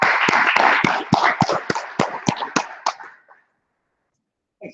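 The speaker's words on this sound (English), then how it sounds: "Let's give a big round of applause for our AR Brews Cruise" Applause from a morning audience at a meetup event, a burst of clapping that thins into scattered separate claps and fades out, followed by a brief voice.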